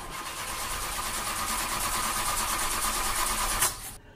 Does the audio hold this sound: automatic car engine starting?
yes